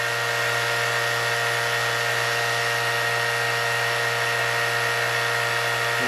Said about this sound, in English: And you hear the pump come on now.